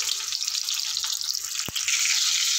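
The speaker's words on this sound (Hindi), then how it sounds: "परवल को हम चारों साइड से अच्छे से फ्राई कर लेंगे" Parwal (pointed gourd) frying in hot oil, a bright continuous sizzle with a couple of sharp clicks from turning the pieces, close and loud, no voices.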